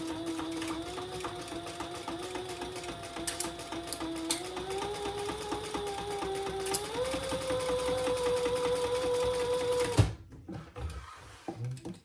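A sewing machine running a 1/8-inch basting stitch on a sling crossbody bag. It hums steadily and close for about ten seconds, rising in pitch partway through, then stops with a brief clunk followed by quiet handling.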